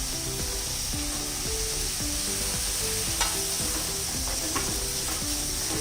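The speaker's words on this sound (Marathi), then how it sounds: "आता यामध्ये आपण टोमॅटो घालूया." Tomatoes sautéing with onions in a pan give a dense, continuous frying hiss, with rhythmic scraping strokes of a spatula turning the mixture throughout.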